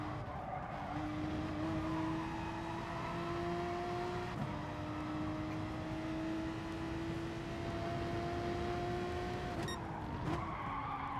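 A race car in GT Sport brakes hard and skids, tires squealing steadily for several seconds over a loud, continuous engine drone that shifts pitch midway, with no talk.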